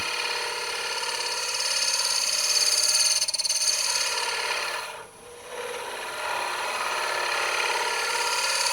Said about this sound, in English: I'm going to angle it to take a smoothing cut on the trumpet.